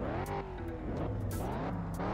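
Pontiac GTO muscle car accelerating in the video game Test Drive Unlimited, a loud rising engine roar with repeated gear-shift surges and brief bursts, continuous and close.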